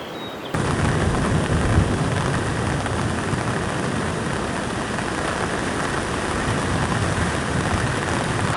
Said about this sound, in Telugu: వర్షంలో టెంట్లో కూర్చున్నాం మొత్తం ఫుల్ రెయిన్